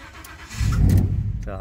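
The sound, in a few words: car engine starting normally, Ford F150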